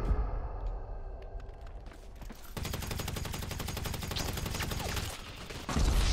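Video game gunfire, with rapid bursts of automatic shots in steady dense volleys, loud and close. A quieter stretch comes before the shooting and a brief pause falls near the end.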